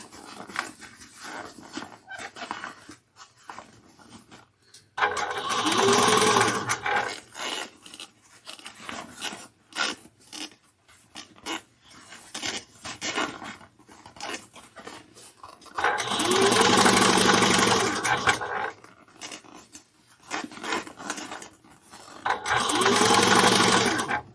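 A sewing machine stitches a handbag in three loud, steady whirring runs, separated by quieter stretches of handling noise and small clicks.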